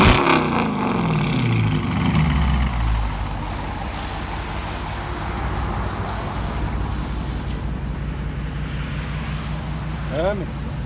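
The HEMI V8 of a 2019 Dodge Charger with dual exhaust and the mufflers deleted gives a loud, close rev that swells and falls early on. It then settles into a deep, steady rumble with a brief blip near the end.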